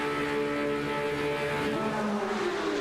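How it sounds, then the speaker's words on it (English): Several Porsche race car engines in the Porsche TAG Heuer eSports Supercup video game hold steady, high droning revs on the grid at Hockenheim before the start, one dense continuous roar with no talk. "Revs are rising."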